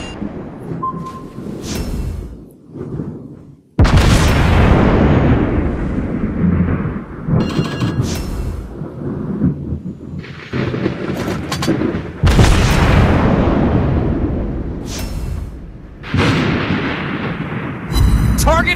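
Heavy naval gun salvos from a warship in World of Warships thunder in repeated loud booms with long rumbling tails, several volleys across the stretch, with brief in-game voice callouts between them.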